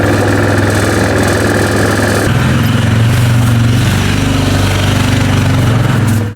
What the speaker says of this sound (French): On prend le quad, on la rentre dans le garage